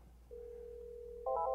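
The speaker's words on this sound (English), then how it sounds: "Receive incoming call." A Polycom VVX600 or VVX500 desk phone signals an incoming call, with a steady electronic tone followed by a brighter warbling chirp, clear and close with no talking.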